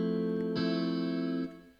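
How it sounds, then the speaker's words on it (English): A dry Dark Star Hybrid guitar chord with no effects, played for a hip-hop beat: one sustained, ringing chord starts just past the half-second mark, holds clean for about a second, then fades out. "So without the effects, this is what it sounds like."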